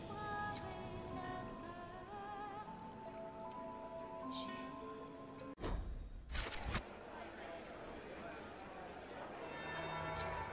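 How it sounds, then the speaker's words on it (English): Church bell tolling in the video game Dragon Age: Inquisition, distant ringing strokes over a steady rain-like ambient bed, with a brief louder clatter midway. "That would be the second bell."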